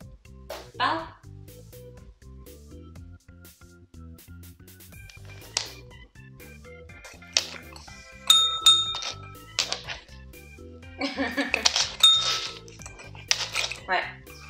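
A Malamute dog rings a small bell for a treat indoors, giving a couple of bright metallic dings among soft clinks and shuffling, with a person speaking quietly in the background.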